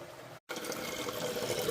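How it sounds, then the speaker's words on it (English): Vintage Eljer St Claire front-flush toilet with a 1994 tank flushing: a steady rush of water that cuts out briefly, then resumes as continuous gurgling fill, close and fairly loud. "It's not the greatest front flusher flush, but it definitely is pretty cool."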